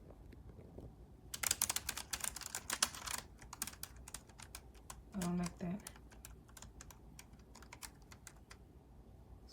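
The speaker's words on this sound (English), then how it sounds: "It's supposed to be a quiet keyboard, but it's not very quiet." Typing on a RaceGT wireless keyboard with number pad, a rapid run of sharp clacky keystrokes close to the mic that keeps going in scattered taps. A person speaks briefly partway through.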